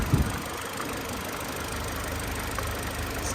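A car engine idles steadily at close range with a low, even rumble and faint knocking, holding constant throughout with no voices.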